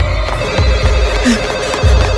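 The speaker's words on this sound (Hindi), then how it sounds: "मुझे वहां टेलीफोन बूथ दिखा। फोन बज रहा था।" A telephone rings inside a telephone booth, loud and repeating over a low rumbling background.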